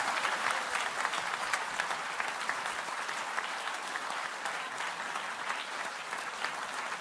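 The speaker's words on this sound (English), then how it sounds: "Everyone, please give them a square of applause." Audience applause at the Ig Nobel Prize ceremony fills the hall, a dense, steady roar of many hands clapping that holds evenly throughout with no voices on top.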